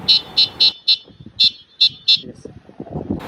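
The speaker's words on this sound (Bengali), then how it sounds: "হর্ন" A shrill electronic electric bicycle horn beeps seven times in quick, short bursts, loud and close, followed by faint rustling and handling noise.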